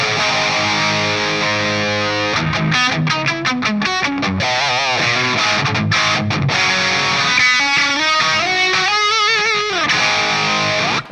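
Electric guitar through a SviSound Cockedzoid distortion pedal, fat lower-mid drive with sustained chords and fast lead runs and bends, loud and continuous with no talking.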